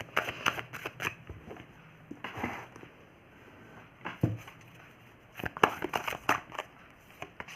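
A tarot deck is shuffled by hand in several quick, crisp riffling bursts separated by short pauses, close and fairly quiet with no talk.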